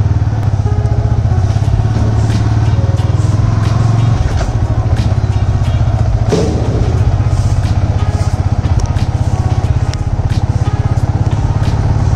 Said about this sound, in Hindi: आपको थोड़ी सी आवाज़ में डिस्टर्बेंस आ रही है क्योंकि मैं बाइक भी चला रहा हूँ